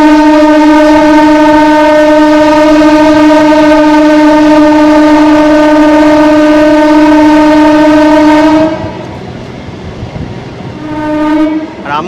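A train pulls into Amghata station, its long loud horn blaring steadily for several seconds before cutting off, followed by rumbling rail noise and a brief second horn blast near the end.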